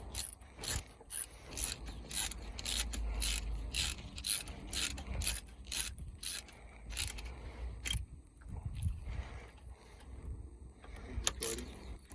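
Ratchet wrench tightening bolts on a cheap jet boat, steady repeated clicking strokes in a regular rhythm close by, with brief pauses and no talking.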